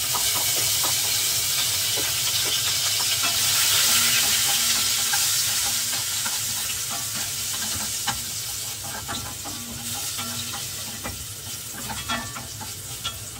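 Garlic sautés in olive oil in a pot with a steady, close sizzle and hiss, punctuated by light stirring clatter throughout, with no talking.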